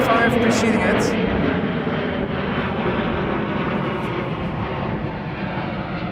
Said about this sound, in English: what you can hear is the Embraer 175 preceding it